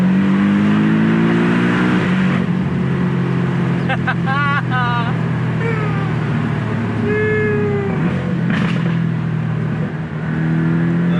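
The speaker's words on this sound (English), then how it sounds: "Listen to that roar, that growl." A Porsche 718 Boxster S sports car engine roars and climbs in pitch as it accelerates, with a person talking over the steady growl.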